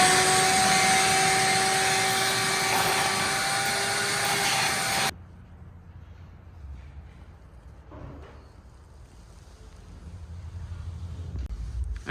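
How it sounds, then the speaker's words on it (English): A household vacuum cleaner fitted with a small nozzle attachment runs loud and steady while cleaning out the engine valley of a Nissan 350Z during an injector swap, then cuts off abruptly, leaving quiet room noise. "I just cleaned up the valley, went in there with some cleaner, vacuumed it up"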